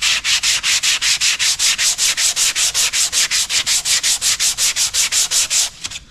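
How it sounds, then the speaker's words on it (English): Steady rhythmic sanding strokes rub guide coat off fiberglass filler, about two strokes per second, close and loud, with no talking, tapering off at the very end. "This guide coat, all the high material will sand away."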